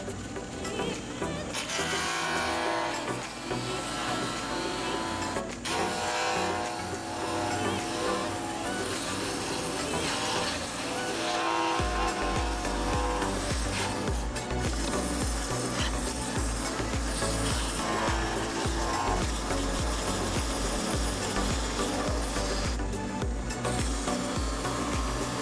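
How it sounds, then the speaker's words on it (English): A resin-and-wood ring made from scraps is sanded on a drill press, producing a continuous close-up rubbing and whirring grind that holds steady throughout, with a voice occasionally speaking over it. "we're going to the drill press"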